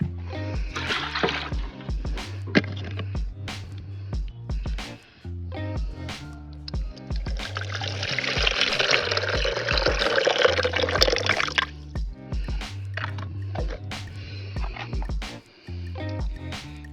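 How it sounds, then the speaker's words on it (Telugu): Water poured into a bathroom floor trap, with repeated splashing and gurgling bursts, a longer steady pour in the middle and scattered sharp knocks, close and clear. "ఇప్పుడు ఫ్లో ట్రాప్లో ఎన్ని నీళ్ళు పడితే చూద్దాం."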